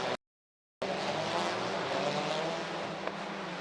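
MG touring race cars roar past at high revs toward the Macau hairpin, a sustained loud engine drone after a brief cut of silence, with no talking.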